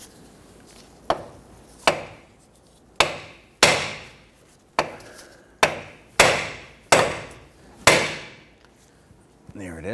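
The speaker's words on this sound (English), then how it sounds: "Other option is you can use a hammer. And you're going to strike here on the knuckle" Sharp metallic hammer blows on the steel steering knuckle of a 2006-2014 Honda Ridgeline ring out one after another, about nine strikes at an uneven pace, each loud and close with a brief ringing decay.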